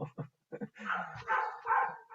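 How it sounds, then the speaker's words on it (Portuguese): A dog barks and whimpers during a live online broadcast about applied hydraulics, giving a few quick yips and then longer whining cries, fairly faint and close. "E um cachorro também participando da nossa transmissão."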